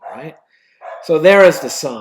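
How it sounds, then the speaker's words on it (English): A dog at feeding time gives a couple of short, close yips and barks that overlap someone talking steadily in a quiet indoor room. "And there goes my dog because it's time to eat"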